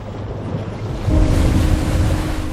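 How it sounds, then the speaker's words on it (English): Ocean waves wash and break along the shore, a steady broadband rush that surges louder about midway as a larger wave rolls in, with low rumbling underneath. "I am the wave."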